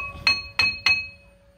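Three evenly spaced, bright metallic clinks ring out up close as a hammer taps a car's front brake disc loose on a PSA Peugeot, Citroën or Ford. Each strike rings briefly before fading, with no talking.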